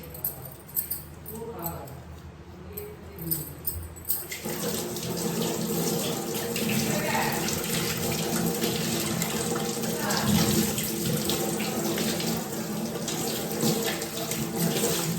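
Hilsa fish being washed under a running kitchen tap, water splashing steadily into a sink for most of the stretch after a quieter start with faint handling noises.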